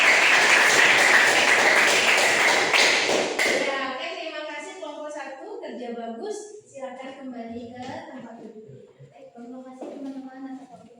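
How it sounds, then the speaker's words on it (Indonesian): Applause from a classroom audience at a teaching session fills the first few seconds, loud and dense, then fades as a voice begins talking. "kasih tepuk tangan dulu"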